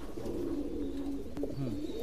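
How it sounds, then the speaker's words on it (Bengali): A pair of golden pigeons coo softly at a pigeon farm, low throaty calls repeating over a steady background hum, close by and with no voices. "এই এক পেয়ার কবুতর গোল্ডেন কবুতর"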